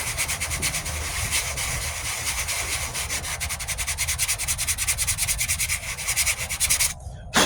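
Steady, continuous sanding of a 1998 Ford Ranger passenger-side wheel arch repair, a rhythmic back-and-forth rasp, loud and close, running without pause until a brief break near the end.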